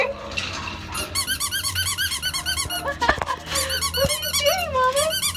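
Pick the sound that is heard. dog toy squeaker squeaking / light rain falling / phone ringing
dog toy squeaker squeaking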